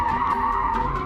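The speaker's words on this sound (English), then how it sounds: "I'm pushing the car so hard that I keep spinning out" Race car tires skidding and squealing as the car spins out, a loud continuous screech with engine roar lasting just over a second.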